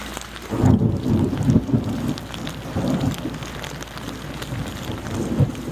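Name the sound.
thunderstorm with heavy rain and thunder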